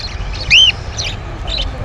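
Parrot-like birds at a traditional bird market in Hemayetpur, with a single short whistled chirp standing out over a low crowd murmur and a few fainter calls.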